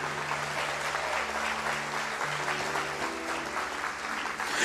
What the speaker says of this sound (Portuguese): Você pode aplaudir o Senhor Jesus, amado?